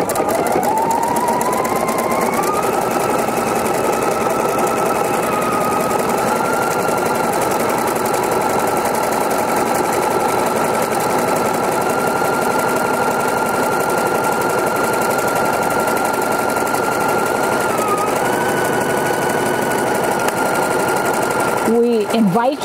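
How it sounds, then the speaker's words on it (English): PFAFF Creative Icon sewing machine fitted with an open toe foot stitches scallops in a steady, rapid mechanical chatter with pitch shifts in its hum, running nearly the whole time under a speaking voice. "I've got the open toe foot on here, and I've got a scallop. This is the PFAFF Creative Icon."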